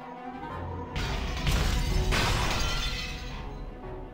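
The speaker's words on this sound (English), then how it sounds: "The mansion was filled with the sounds of knocking, crushing, smashing, and chewing." Smashing and crushing effects from the visual novel Umineko: a dense, loud crash of breaking and shattering swells over a couple of seconds, then gradually fades out, with no voices.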